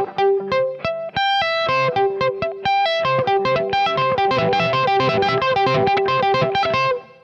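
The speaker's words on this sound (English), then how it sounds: "But what I'm doing here is I'm sweeping across the string." Slow sweep-picked electric guitar arpeggios with pull-offs, played through an effects unit with some distortion: clear, evenly spaced picked notes climbing and falling in steady runs, close and loud, with no voice.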